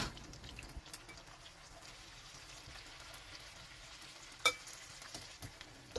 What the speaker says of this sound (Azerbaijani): Toyuqları əlavə edirəm və başlayıram bunları. Hər iki üzünü qızartmağa.